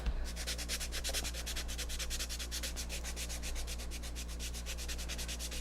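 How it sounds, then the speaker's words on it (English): A small sanding sponge rubbed back and forth on a surface makes a fast, even, close-up rasping stroke repeated steadily throughout. "you're going to take a small sanding sponge to make sure that's dry"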